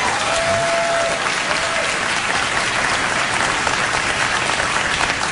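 A late-night talk show studio audience breaks into sustained applause for a comedian's remark about his wife, dense even clapping that stays loud and steady throughout.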